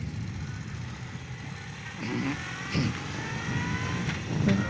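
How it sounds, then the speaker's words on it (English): A car approaches and passes a 1973 BMW R75/5 motorcycle riding near an empty school on a Sunday, rising over the bike's steady engine drone in the last few seconds. "Car's coming."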